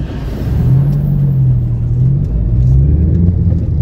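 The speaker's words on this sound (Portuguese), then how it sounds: "O caminhão Muck ali, agarrando as máquinas antigas ali," A heavy grab truck rumbles loudly nearby, its engine droning and revving while it lifts old machines and drops them into its bed, the flood-damaged scrap handled at a business in Porto Alegre.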